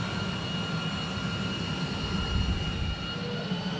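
A Lockheed X-35 jet engine throttles up for a hover test in a hover pit, a loud continuous whining roar with steady tones, sustained and close throughout, with no talk.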